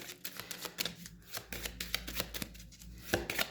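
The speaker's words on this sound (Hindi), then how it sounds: "जब मैं कार्ड शफल कर रही हूँ" Tarot cards being shuffled by hand during a reading, a quick series of crisp riffling slaps and flutters, close and fairly soft, repeating in short uneven bursts.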